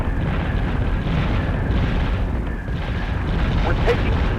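A ship taking sustained weapon fire in Battlestar Galactica Deadlock, heard as a continuous loud rumble of explosions and impacts, with a sharper burst near the end and faint game voices beneath.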